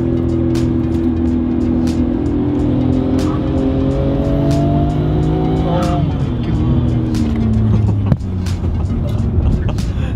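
A Nissan R34 GTR fitted with a Midori Seibi titanium exhaust drives hard, its engine note rising and falling through gear changes with a brief tire squeal, loud and close under occasional voices.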